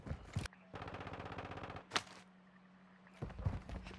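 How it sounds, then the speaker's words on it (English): Rapid automatic gunfire in a first-person shooter game, with a Vaznev rifle in use: a long sustained burst of fast shots, then single sharp cracks and another short burst, loud and close with no talking. "Gunshots going off all around"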